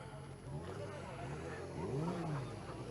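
A Honda motorcycle rides past at a charity bike run, its engine note rising and falling as it sweeps by fairly close, with a voice speaking over the crowd and other motor noise.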